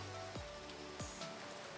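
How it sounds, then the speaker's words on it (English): Heavy rain pours steadily in a continuous wash, soft and fairly faint overall, with a couple of brief sliding electronic tones passing over it. "Wow, the rain is loud."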